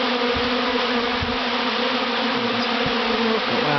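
Couple of dozen bees crawling on a person's hands inside a large swarm buzz in a constant, close, loud drone with no pauses.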